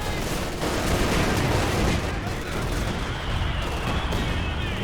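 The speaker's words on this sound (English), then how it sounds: "One more shot from the Zeus. Oh no, it doesn't even need it. The heavy mortar finishes the job." Heavy mortar fire and artillery from a Company of Heroes 2 match, a dense, continuous rumble of blasts and gunfire that stays loud throughout the stretch, with no pause between impacts.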